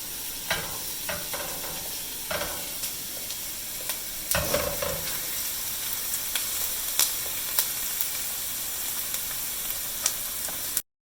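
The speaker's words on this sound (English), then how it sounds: "With onions, it's important to keep stirring it" Onions sizzle steadily in hot olive oil in a pan while being stirred, with scraping clicks and clattering strokes of the spoon cutting through the continuous close frying hiss.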